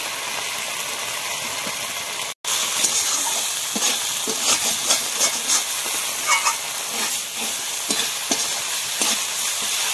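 Spice masala with chopped tomato fries in a pan under steady stirring, giving a constant hiss broken by scraping and clinking strokes near the microphone after a brief dropout.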